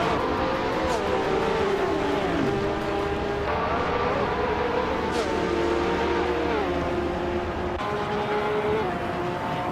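Race cars in a racing video game roaring and jostling for position, with overlapping engine tones rising and falling as they overtake one another, loud and continuous throughout.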